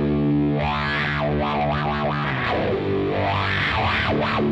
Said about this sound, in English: I love the way the fuzz sounds that way through the wah